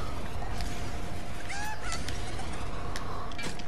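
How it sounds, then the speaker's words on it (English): Honking, goose-like fowl calls from a chicken in the Fortnite video game sound in short repeated bursts over a steady background of game noise. "Shut up, chicken."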